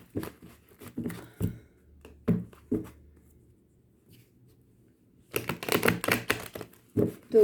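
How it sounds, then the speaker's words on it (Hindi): Tarot cards are shuffled by hand in quick bursts of crisp riffling and tapping, close and fairly quiet, with a near-silent pause between the bursts. "तो कार्ड्स हो गए हैं शफल।"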